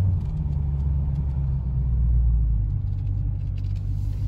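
A car's engine rumbles low and steady from inside the cabin while driving, a continuous deep drone without speech.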